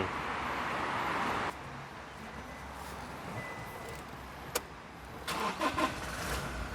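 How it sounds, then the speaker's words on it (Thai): A 2020 Toyota Revo Cab 2.4 Entry pickup truck starts: a loud cranking burst lasts about a second and a half, then the engine settles into a steady, quieter idle, with a couple of light knocks near the end. "เดี๋ยวผมจะไปสตาร์ทรถ"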